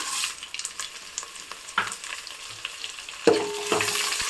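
Dried red chillies fry in hot oil with a soft crackling sizzle, broken by a few brief stirring clinks and knocks in the pan, close and with no voices.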